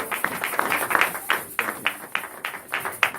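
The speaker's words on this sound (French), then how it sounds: "On applaudit pour le Seigneur." Congregation clapping in rhythm during a worship service at a Paris church, steady repeated claps close by with a few louder hits, no speech over it.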